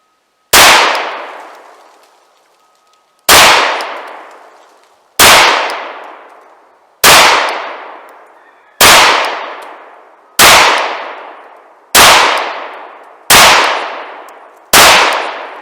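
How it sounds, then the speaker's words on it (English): Ten pistol shots are fired one at a time at an unhurried, fairly even pace on a shooting range, each a loud sharp crack with a ringing decay, without talking. "Shoot 10 shots at my own pace and see how it works."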